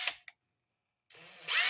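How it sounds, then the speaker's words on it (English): A power drill bores holes into a small wooden crankbait fishing lure, a couple of brief clicks then a rising high whine that swells loud and close near the end. "But I drill 2 holes"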